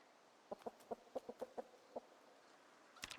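Hens clucking by a hutch in the video game Project Zomboid: a string of about eight short, evenly spaced clucks, followed by a louder, busier flurry of calls at the end.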